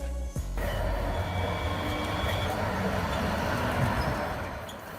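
A metro subway train rumbles steadily along the rails, loud and close, with a continuous low roar and faint high squeal for about five seconds.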